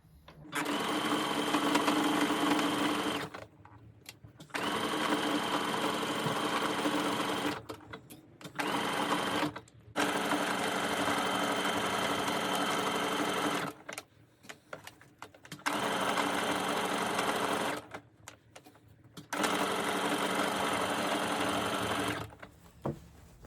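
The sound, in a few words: sewing machine stitching a sweatshirt seam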